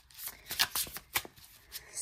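Tarot cards are shuffled and handled at close range in a quick, uneven flurry of soft riffling and slapping bursts over about two seconds, with no speech.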